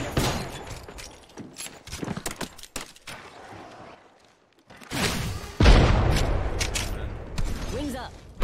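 Gunfire in the battle royale shooter Apex Legends, Season 9, with a scattered burst of sharp shots early on and a louder, denser volley later, mixed with heavy booms and a voice talking over part of it.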